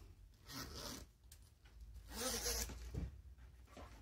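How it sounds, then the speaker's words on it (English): Zipper on a sewn faux leather doctor's-style tote being unzipped: two raspy, scratchy pulls close to the mic, the second one louder, with light handling rustle between them and no talk. "Now we're going to unzip the zipper."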